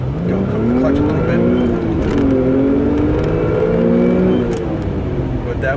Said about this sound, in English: 3, 2, 1, revs. Go cook the clutch a little